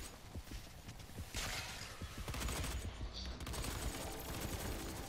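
Rapid gunfire from behind in Doom gameplay, a dense, steady barrage of shots with mechanical clatter filling the whole stretch at moderate distance.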